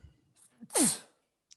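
A single sharp sneeze, close and fairly loud, with a quick intake of breath before it and a brief faint click trailing after.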